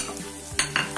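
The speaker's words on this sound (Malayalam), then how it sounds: "നന്നായിട്ടൊന്ന് ഇളക്കി കൊടുക്കാം" Onions being stirred in a pan while cooking a Kerala-style clam meat masala, a few brief scraping and clinking strokes over a low background hum.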